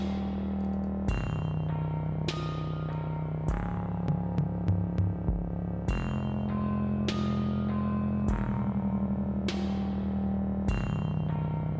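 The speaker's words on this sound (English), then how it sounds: "I think this synth needs a little bit of echo as well." Synthesizer being mixed in a dungeon synth track with an echo plugin, sustained droning chords shifting every couple of seconds, each change marked by a bright attack whose repeats trail off, steady and even throughout.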